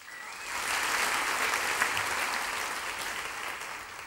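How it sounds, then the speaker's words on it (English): Church congregation applauding together in a large worship hall, a steady broadband clapping that swells quickly and holds evenly for several seconds without talk. "One more clap for me"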